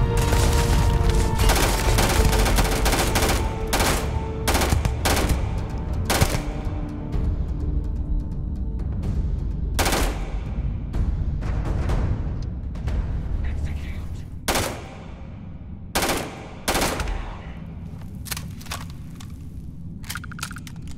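Gunfire in the space game Starfield, with dense rapid automatic bursts and sharp individual shots packed together at first, then thinning into separated loud cracks over a low rumbling bed.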